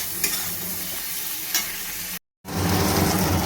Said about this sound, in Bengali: আমি লঙ্কাটা দিয়ে আবার একটু ভেজে নেব ভালো করে